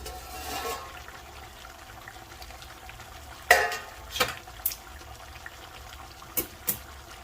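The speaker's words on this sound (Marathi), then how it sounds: "मस्त उकळी यायला सुरुवात झालेली आहे ग्रेव्हीची." Fish gravy for a muthe dish bubbles in an uncovered pan, a soft steady simmering hiss broken by a few louder splashy pops and stirring sounds near the middle and end, with no talking.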